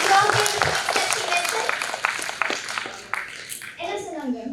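An audience at an engineering college talk on climate change claps in a dense burst of applause that fades over a few seconds before a voice speaks.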